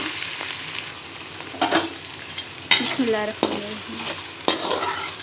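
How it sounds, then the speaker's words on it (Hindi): Finely chopped medium onion hits hot oil for a white chickpea curry, sizzling steadily with several sharp bursts of frying and a few spoon stirs, close and fairly loud; one brief spoken phrase at the start. "अब इसमें हम डाल देते हैं एक अदद दरमियाने साइज़ का प्याज, जिसे मैंने बारीक चॉप कर लिया था।"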